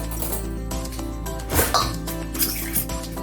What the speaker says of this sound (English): And I'm going to stir this.